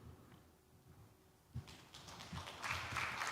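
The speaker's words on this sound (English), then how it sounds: "Round of applause for him sharing his testimony" Applause from a summit audience rising partway through, beginning quietly and building into broad, sustained clapping from a large crowd that fills the second half.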